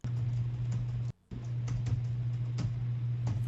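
Rapid keyboard typing in GTA 5 clatters along over a steady low hum, with a brief silent gap partway through before the tapping resumes.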